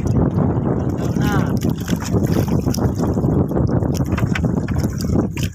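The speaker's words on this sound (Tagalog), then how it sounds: "lakas ng hangin" Strong wind buffets a microphone aboard a small fishing boat at sea, a loud, steady roar and rumble that lasts throughout, with people talking over it.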